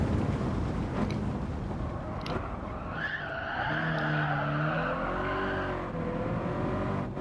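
Car tyres skid and squeal loudly through a handbrake turn in a Toyota GT86 or Honda DC2 Integra Type R, a long wavering screech over steady engine drone with no talk.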